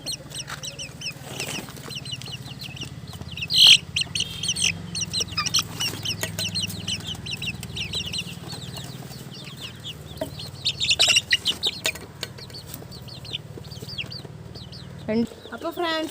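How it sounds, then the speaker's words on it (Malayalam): Incubator-hatched Giriraja chicks chirp and cluck in a large coop, with sharp bursts of peeping rising over a low steady hum, loudest in a few brief clusters, and nearby talk in places. "ഇതാണ് കോഴിക്കുഞ്ഞ്"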